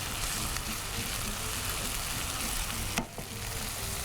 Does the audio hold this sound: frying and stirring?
yes